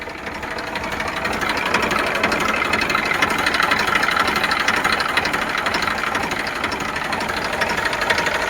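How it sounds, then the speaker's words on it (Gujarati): A Massey Ferguson 7250 diesel tractor with a DI pump runs steadily nearby, its engine chugging with a dense, knocking idle rhythm at loud, even level throughout, with no talk over it. "એન્જિન પાવરફુલ છે ભાઈ."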